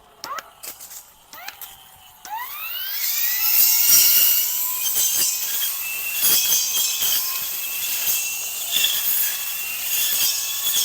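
A brush cutter fitted with a 10-inch circular blade revs up to a high whine, then its blade bites repeatedly into tree branches, with scattered snapping cracks throughout.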